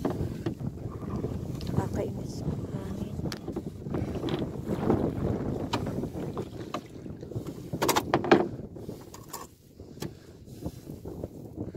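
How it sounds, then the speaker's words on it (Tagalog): Gusty wind blows across a seashore in Norway at low tide, buffeting the microphone in uneven surges that swell and drop over a low rumble of water. "kaya lang yung hangin pa bukso-bukso"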